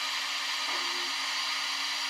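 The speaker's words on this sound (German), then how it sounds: "Ausblasen des Zylinders beim Anfahren." A steady hiss of steam blowing out of the cylinders of a model BR 78 (T18) steam locomotive as it starts, broad and continuous, with a faint low hum underneath and no voices.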